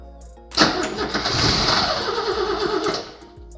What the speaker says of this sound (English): We're going to put some fuel down the yap of the carb and see will it fire off.